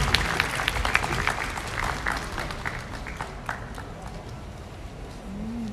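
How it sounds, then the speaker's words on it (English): Scattered clapping from a crowd at a book launch, uneven and moderately faint, with murmuring in the background. "Please, a round of applause for my mommy."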